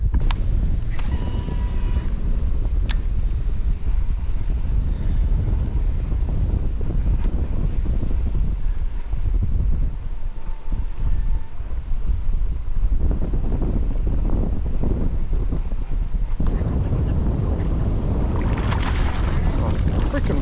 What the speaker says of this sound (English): This wind is fucking moving, boy.